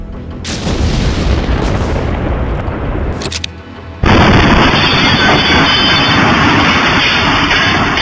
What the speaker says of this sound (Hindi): सैंपलिंग के दौरान जोरदार धमाका हुआ।